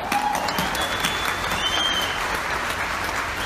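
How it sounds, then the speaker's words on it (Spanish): Loud, dense applause from a large audience at an outdoor show in Mexico City's Zócalo, sustained and even throughout with a few faint whistles. "¡Venga ese aplauso para ella!"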